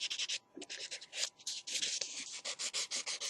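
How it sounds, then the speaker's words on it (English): A nail file rasps across the top layer of fingernails in quick, close, rhythmic strokes, each a short dry scrape repeated steadily for a few seconds with no talking. "you're filing off the top layers"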